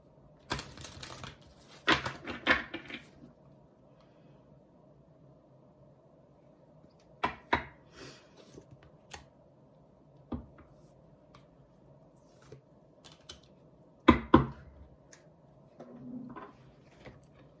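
Tarot cards are shuffled in several separate bursts of soft riffling and tapping, with quiet pauses between them, close by and with no talking.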